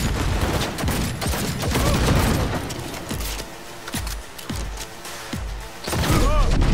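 Johnny Silverhand's pistol firing in the video game Cyberpunk 2077, several loud, sharp, spaced shots cutting through a dense din of combat noise and explosions, with a voice talking over it.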